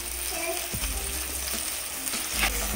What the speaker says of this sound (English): I'm gonna flip the patties.